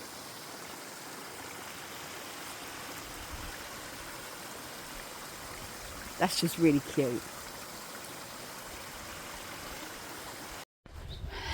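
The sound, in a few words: small waterfall stream in Norway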